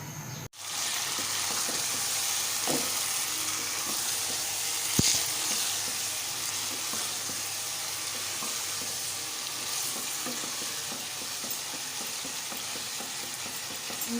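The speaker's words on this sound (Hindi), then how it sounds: "बॉईल किया हुआ मीट ऐड करके अच्छी तरीके से भून लेंगे। फ्लेम थोड़ी हाई करेंगे ताकि अच्छी तरह से भून जाए।" Boiled meat fries with spices over a high flame in a steady, loud sizzle, broken by occasional stirring scrapes and clicks.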